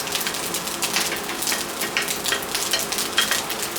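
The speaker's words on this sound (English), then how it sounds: "Now we can dump in our steak and onions over here." Steak and onions stir-frying over medium heat in a wok with rice for Cantonese steak fried rice, giving a steady, close, dense sizzle with scraping stir noises throughout and no talk.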